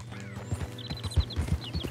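A horse in the western video game Red Dead Redemption 2 clops along at a steady hoof rhythm, close and moderately loud, with brief high whinny-like calls over the hoofbeats.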